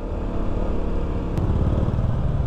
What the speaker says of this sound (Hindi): और ये जा रही है होंडा CB हाइनेस